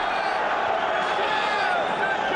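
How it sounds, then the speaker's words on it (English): Football stadium crowd at a 2001-02 Champions League match between Anderlecht and Real Madrid, a steady roar of murmur and raised voices building during a spell of attacking pressure, continuous and fairly loud throughout. "Got the crowd going a bit there"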